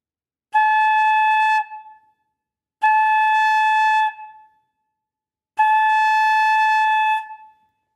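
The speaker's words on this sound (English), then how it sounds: "And here's what it sounds like on the head joint." Three sustained tones from a flute head joint played alone, each a bright, steady note lasting about a second with a short tapering release, separated by clear pauses.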